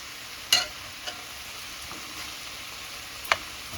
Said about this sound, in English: Let it fry up a little